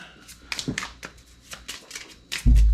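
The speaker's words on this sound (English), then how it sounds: "We take these cards and we shuffle" Quick papery riffles and soft snaps of playing cards being shuffled up close, in short bursts, ending with a low thump.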